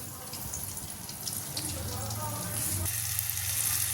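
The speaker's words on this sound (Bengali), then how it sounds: "আমি রেডি করে নিয়ে তেলে ভেজে নিচ্ছি ডিপ ফ্রাই করে" Flour-coated pieces deep fry in hot oil with a dense, continuous bubbling sizzle that swells slightly partway through and stays fairly loud to the end.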